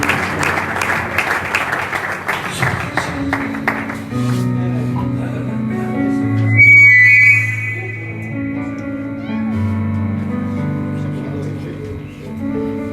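A church congregation applauds for about four seconds, a busy patter of many hands, before sustained keyboard and organ-like music takes over and plays on alone.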